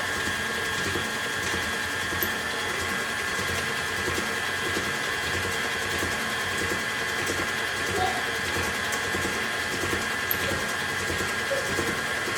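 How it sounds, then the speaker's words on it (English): KitchenAid stand mixer beating sweetened applesauce in a kitchen, a steady continuous motor whir with a constant hum throughout, no pauses. "So 1/4 cup sweetened applesauce right into my KitchenAid mixer."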